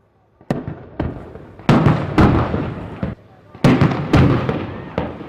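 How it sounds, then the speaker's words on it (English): Several heavy, booming bangs from a smokestack demolition go off one after another, each with a rumbling tail, separated by short pauses. "A couple of loud bangs, and it was all over in a matter of seconds."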